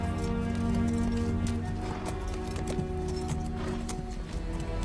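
A horse trots at an unhurried pace, its hooves clip-clopping steadily and fairly close against a low, droning background.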